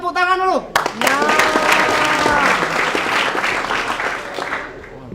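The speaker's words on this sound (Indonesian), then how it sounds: "Silakan kakak yang belakang tepuk tangan dulu" Audience applause in a hall during a Palembang campus show, a dense wash of clapping running nearly the whole time, with voices and cheering mixed in over it.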